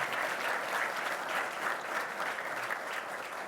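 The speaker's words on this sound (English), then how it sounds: "I think we should all applaud the effort you've made, you personally, to build this organization." An audience at the 2022 Homeland Security Enterprise Forum breaks into sustained applause, an even wash of many hands clapping at moderate volume with no speech over it.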